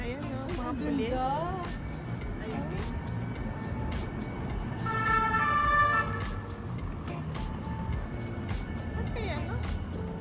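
A police siren wails along a Paris street, its rising and falling tone steady over busy traffic noise while people chat nearby.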